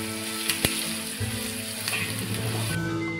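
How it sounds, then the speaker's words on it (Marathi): Onion sautéed in oil until pink for a Maharashtrian bharang leafy vegetable dish, a steady close sizzle with a couple of sharp clicks and pops early on, continuing without talk. "लाल म्हणजे गुलाबी होईपर्यंत आपल्याला हा कांदा व्यवस्थित परतून घ्यायचा आहे"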